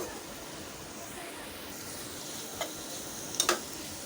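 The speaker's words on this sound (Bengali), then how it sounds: "ডিম দিয়ে পটল ভাজা, ডিম পটল ভাজাটা একেবারেই রেডি।" Pointed gourd and egg fry quietly in a pan, a soft steady sizzle running throughout, with a few sharp utensil clicks near the end.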